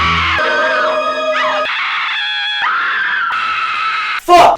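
Prolonged shrill female screaming from a Christmas horror slasher film fills the whole stretch, wavering and sliding in pitch through several breaths, loud and close, ending in a sharper burst.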